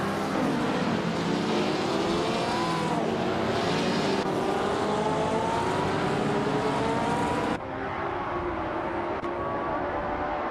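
Video game race cars, including vintage racers such as a 1962 Lola Mark IV Climax, roaring loudly with rising and falling engine pitches as cars jostle for position, continuous and close with no talk.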